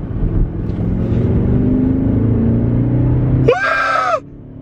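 BMW X6M Competition accelerating hard, a loud sustained engine roar climbing in pitch for about three and a half seconds, then cut off by a sharp high squeal before the clip goes quieter.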